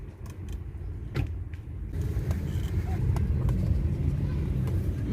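Traffic in GTA 5 near the Santa Monica pier and beach, with car engines rumbling and passing by. The low road noise is continuous and rises after the first two seconds, with a few faint clicks and knocks on top.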